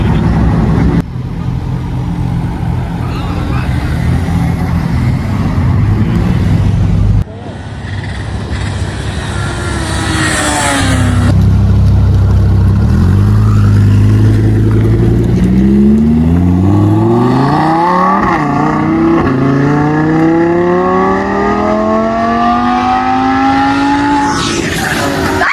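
A Ferrari F430 and a Ford Mustang rev and drive past at a supercar meet, loud engine roars rising and falling in pitch as each car passes close by, with crowd noise underneath.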